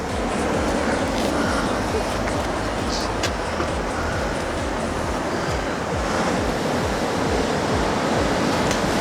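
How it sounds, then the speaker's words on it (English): Ocean waves crashing on the rocky Maine shoreline near Portland Head Light, a loud, continuous roar of surf with steady churning wash and no voices. "to the sound of the beautiful crashing waves"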